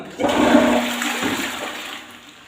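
A household toilet flushes close by with a sudden loud rush of water that gurgles on and then fades as the cistern drains.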